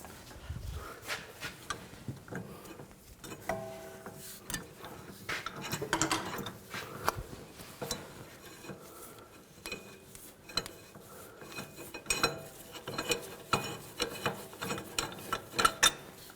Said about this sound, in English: And now I'm going to loosen this up while I'm holding those locking pliers.